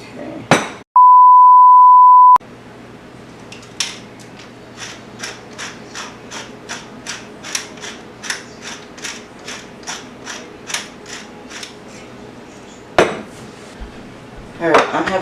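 A salt grinder twisted by hand gives a quick run of evenly spaced ratcheting clicks, close and fairly crisp, after a brief steady tone. Clattery handling noises come at the start and end.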